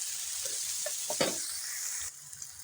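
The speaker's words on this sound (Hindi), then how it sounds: "टमाटर, हरी प्याज, हल्का सा इन्हें हम फ्राई कर लेंगे" Tomato and green onion frying gently in a pan, with a steady broadband sizzle throughout, a few soft stirring scrapes in the middle and a slight drop in level near the end.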